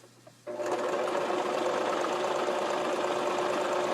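A sewing machine stitches a fabric flower applique for a quilt, starting abruptly after a faint moment and then running in a steady, close mechanical whir until the end.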